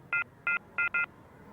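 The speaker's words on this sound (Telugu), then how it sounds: "ఇంకో నెంబర్ చేస్తాను." Four short, clean touch-tone beeps sound from a telephone keypad as a number is dialed, evenly spaced with the last two close together, loud and close with no talking.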